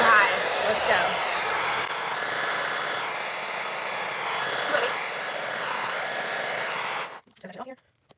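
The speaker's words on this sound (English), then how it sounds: "I'm going to use this on the highest setting. It has several different wind options and heat settings." A negative ion blow dryer runs on its highest wind and heat setting, a loud steady roaring whoosh held close for about seven seconds, then it cuts off abruptly and leaves brief faint handling noises.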